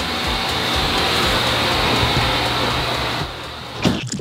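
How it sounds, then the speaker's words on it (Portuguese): An electric fan runs indoors with a steady broadband whoosh and hum, loud and close, then drops slightly near the end with a brief knock. "liga o ventilador, por favor."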